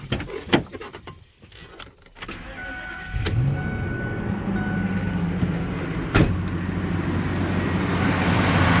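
A Ford V10 engine starts after a few clicks and key jangles, then settles into a steady, smooth idle, a low continuous rumble with a faint whine, close by.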